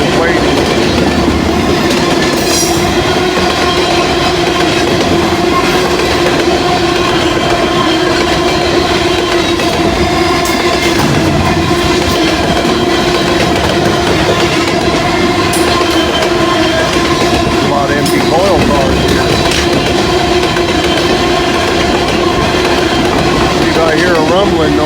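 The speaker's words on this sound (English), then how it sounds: "The train stopped at the crossing when I got here." A Norfolk Southern freight train rolls through a road crossing in Lockland on a rainy day, making a loud, continuous rumble with steady clickety-clack from the wheels that lasts the whole time.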